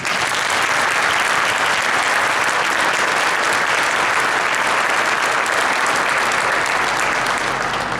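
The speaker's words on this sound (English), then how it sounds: "Let's give those gentlemen a round of applause for their leadership." Audience applause for cadet leaders at a military pass in review ceremony, a loud, dense, continuous clapping from a large crowd held steadily for several seconds.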